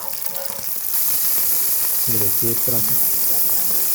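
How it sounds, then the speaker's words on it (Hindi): Okra frying in ghee in a pan hisses in a bright, steady sizzle that swells after the first second and holds loud, while someone talks over it in short phrases. "भिंडी को अच्छी तरह से घी के साथ फ्राई करेंगे"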